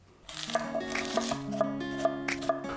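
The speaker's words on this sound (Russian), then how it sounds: "Лук нарубить кубиком." Steady knife chops on a cutting board as an onion is diced, about six evenly spaced strikes, with soft music playing underneath.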